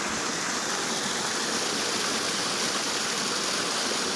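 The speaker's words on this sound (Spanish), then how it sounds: "Mira qué pequeño arroyo. Fijaos qué caída de agua tiene." A small stream spilling over a drop near a village, a constant dense rushing and splashing of falling water, close and steady with no pauses and no voices.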